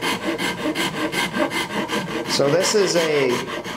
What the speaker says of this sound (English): It's actually a left-handed rasp.